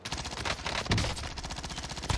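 Dense, continuous automatic gunfire in the Call of Duty Warzone video game, with rapid bursts overlapping and a heavier shot cracking out near the end, no speech over it.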